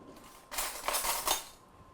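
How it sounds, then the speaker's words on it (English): Oil being mixed into seasoned food with a utensil, a short close burst of clinking and scraping against a bowl lasting about a second, quiet and alone. "And a little bit of oil. I want to mix that up."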